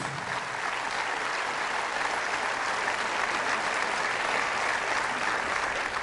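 Sustained, dense applause from a church congregation honouring Jesus during a Catholic Mass, loud and steady throughout with no break, a broad wash of clapping from many hands.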